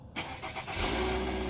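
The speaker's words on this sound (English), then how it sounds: "We're going to do a remote start" A 2017/2018 Nissan Altima SV starts by remote start: a brief cranking burst gives way to a steady, close engine idle that settles and holds.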